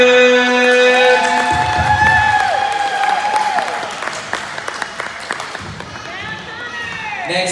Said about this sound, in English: Let's clap it up for Connor Evans!